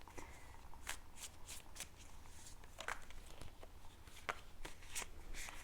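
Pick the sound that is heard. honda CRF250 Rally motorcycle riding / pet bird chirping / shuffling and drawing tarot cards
shuffling and drawing tarot cards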